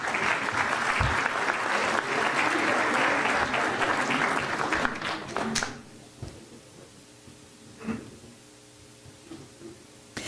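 An audience at a heraldry society's year-end honors ceremony claps loudly and steadily for about five seconds, then the applause trails off into a few scattered claps and quiet room noise.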